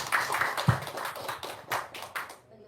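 A small audience claps in short uneven bursts, close and fairly quiet, stopping abruptly near the end.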